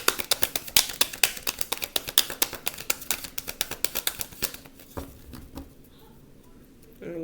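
Tarot cards being shuffled by hand, a quick run of crisp rhythmic taps and flutters up close that stops partway through, leaving a quieter stretch with only faint handling noise.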